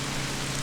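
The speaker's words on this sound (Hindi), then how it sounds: "पता है यहाँ पर भी कितनी बारिश हो रही है।" Heavy rain falls steadily as a dense, continuous hiss with a low rumble underneath, loud and unbroken through the brief moment without any talk.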